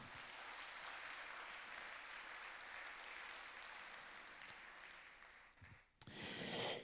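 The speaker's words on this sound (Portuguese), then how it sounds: "Quem pode dar outra salva de palmas para o Senhor Jesus?" Church congregation applauding at a service, a steady dense wash of clapping that holds for several seconds, dips near the end, then swells loudly again after a brief break.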